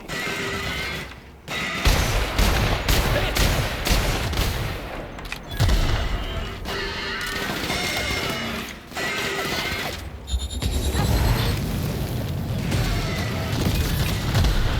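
Sniper rifle and other gunfire in The Outer Worlds during a fight with MSI and Iconoclasts, sharp repeated shots and booms over dense combat noise, continuous and loud.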